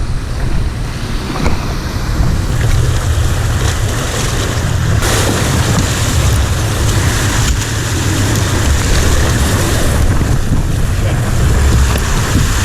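Ocean swell and surf wash continuously at the shore at low tide, a loud, broad roar with gusts of wind buffeting the microphone throughout, and no voices.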